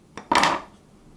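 A knife slices a Boston cream cupcake in half: a light tap, then a louder, brief scraping clack against the board that fades quickly, close by and with no talking.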